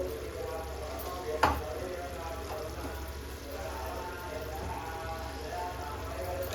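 Ginger garlic paste fries in oil for a fish curry, a soft, steady sizzle with a brief clatter of stirring, quiet and close, under a low murmuring voice.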